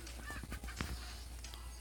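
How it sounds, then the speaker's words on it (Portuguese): Hungry chickens in a farming video game cluck and honk in a few short, scattered calls over a steady low background hum. "Eita, as galinhas estão com fome,"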